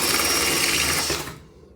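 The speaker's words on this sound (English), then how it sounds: "I could drill holes, sure." A power drill whirs loudly for about a second while drilling a hole in a 2019 Mustang GT's hood, then spins down and fades quickly into quiet.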